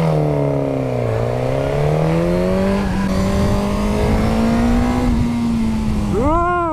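Suzuki GSX-S1000 motorcycle engine revs hard on a race track, a loud, close, continuous howl climbing and dipping through gear changes, ending in a sharp rising rev near the end, with no talking.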